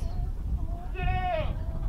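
A single goat on a farm lets out a short wavering bleat, close and clear, over low background rumble and noise.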